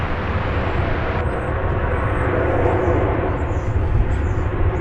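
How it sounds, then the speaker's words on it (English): Airbus A321 airliner taking off from DFW Airport for Salt Lake City, a loud, continuous broadband jet roar that swells slightly midway and stays strong, with no talking over it. "That is Flight 2066 off to Salt Lake City. It is an Airbus A321."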